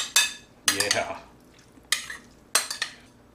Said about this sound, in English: let's go ahead and give this a good mix